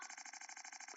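A small flaming motorcycle in the Roblox game Brookhaven, its synthetic engine note pulsing in a fast, even rhythm, quiet and alone for a brief moment.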